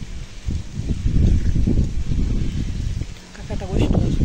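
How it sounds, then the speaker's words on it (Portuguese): Strong wind buffets the microphone outdoors at night beside a bonfire, producing a steady, loud low rumble with gusts rising and falling throughout. "Gente, tá muito ventando. Muito vento."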